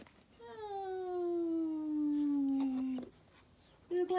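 Pet dog giving one long, drawn-out whimpering howl that slides slowly downward in pitch for about two and a half seconds, close and clear, followed by a brief higher whine and scuffling.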